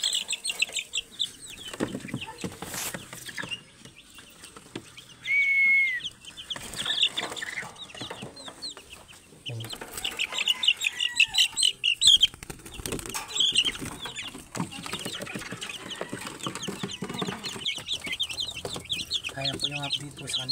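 Two-week-old chicks in a roomier new cage peep and cheep in quick bursts while wings flutter and flap now and then, with a voice talking quietly between the sounds.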